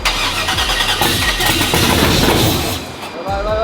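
A truck engine cranks and catches, turning over loudly up close before settling into a running rumble that briefly dips and picks up again near the end.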